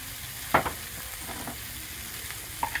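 Tofu and broccoli stir-fry in a pan with a soft, steady sizzle and a few brief scraping clicks as the food is turned, fairly quiet and without talk.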